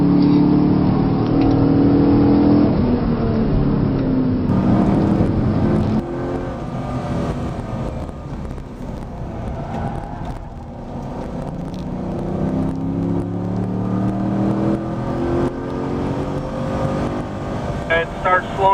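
Camaro or Corvette on the Spring Mountain Motorsport Ranch racetrack, engine loud and steady at first, then dropping in pitch as the car slows for a corner, with an instructor talking over it throughout.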